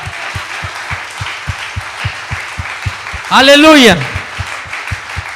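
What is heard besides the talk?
congregation applauding in church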